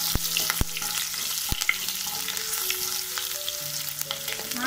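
Garlic and chili hit hot oil with tempered cumin for an okra (bhindi) stir-fry, sizzling steadily while a spoon scrapes and clacks against the pan a few times, close up with no voices.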